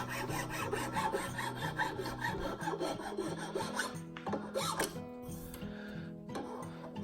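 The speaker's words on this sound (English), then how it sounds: "now this is such a much finer file that it will sand like sandpaper" A fine file rasps back and forth along the edges of a wood spiral carving in quick, rhythmic strokes, close and continuous, with brief changes in pace near the end.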